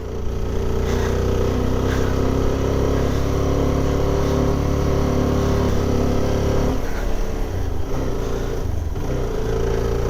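A CF Moto 300SR motorcycle engine drones steadily while riding on a mountain road in Bandarban, loud and close, with wind noise and slight shifts in pitch as it moves.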